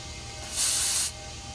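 A brief, soft hiss of propane rushing through a new valve into a tank swells for about half a second over faint background noise, then cuts off.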